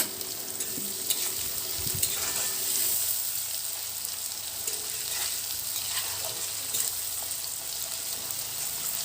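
Ground garlic hitting hot oil in a pan while cooking a jackfruit dish, giving a steady sizzle and crackle with occasional stirring clinks and scrapes, close and continuous.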